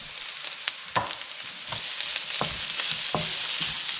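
Chicken sautéing in a pan for pancit bihon canton guisado, a steady hiss of frying broken by several sharp clacks of a utensil stirring against the pan.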